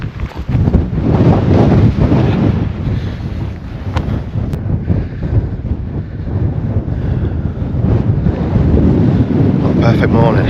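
Strong wind buffets a hillside camp in the Peak District on a clear morning, a loud, continuous roaring rumble with gusts pressing against the microphone throughout.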